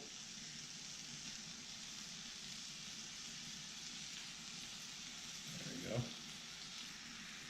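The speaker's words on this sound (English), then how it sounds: "You can already hear the sizzle." Steady, even sizzling of thinly sliced pastrami frying on a hot Blackstone griddle fills the clip, a dense crackling hiss with a brief clunk near the end.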